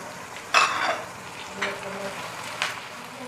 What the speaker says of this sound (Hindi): इनको अच्छी तरह से भून लेंगे।